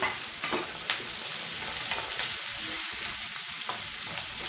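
Chopped broad beans (avaraikkai) sautéing in a pan for a masala, a steady sizzle punctuated by several sharp spatula scrapes and taps at irregular intervals, close by with no talking.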